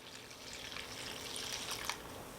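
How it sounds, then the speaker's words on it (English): Warm water poured into a bowl of flour and yeast, a steady soft trickle and splash that runs quietly and continuously for a couple of seconds, close by and without any talk. "pour my 2 cups of warm water"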